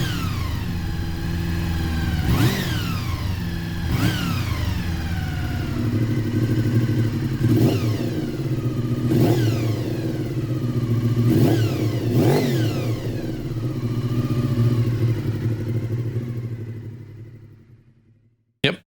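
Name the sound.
1987 Honda VFR400R NC24 motorcycle revving, old and new exhaust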